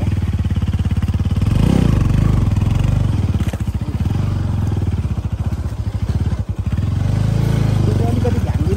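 A motorcycle rides along a rough, broken municipal road in Nepal's Nepaltar Mangalbare area, its mid-pitched engine droning steadily with clattering bumps and shifts in throttle throughout, while someone talks over it.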